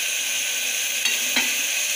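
Onion and tomato frying in oil in a pan, a loud continuous sizzling hiss with two brief stirring scrapes partway through, no voices.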